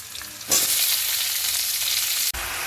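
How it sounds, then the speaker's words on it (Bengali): Leafy greens dropped into hot oil tempered with ginger, a sudden loud sizzle that bursts up and holds steadily for nearly two seconds before cutting off, close to the pan. "এবার আমি শাকটা দিয়ে দেবো।"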